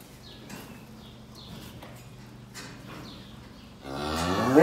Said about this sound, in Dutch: En dan staan hier nog een paar koeien die nog moeten kalven.